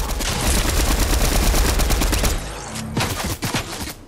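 Rapid automatic gunfire in the video game Fortnite, loud and continuous bursts for a couple of seconds, then a short pause followed by a few more scattered shots.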